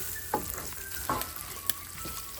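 Onions fry quietly in oil for a Trini-style cod fish gravy, with a soft steady sizzle and a few light stirring clinks, close by and with no voices.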